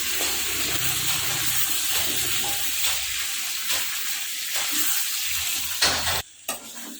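Amla cooking in salt in a pan, stirred now and then, gives a steady soft sizzle with scraping stir strokes and a few brief clatters near the end, no voices.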